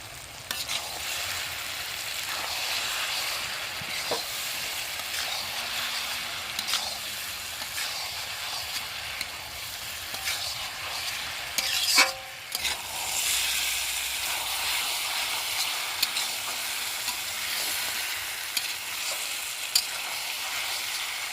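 Fried young jackfruit goes into a pan of spiced masala with cashew paste for a malai curry, sizzling in a loud continuous hiss while being stirred steadily, with a sharp clatter near the middle.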